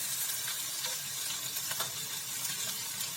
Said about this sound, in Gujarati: ધીમા એકદમ ધીમા તાપથી તેને તેલની અંદર સડવા દેવાનું છે